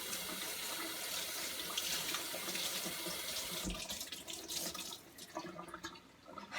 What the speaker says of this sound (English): most of the time I use like cold water on my face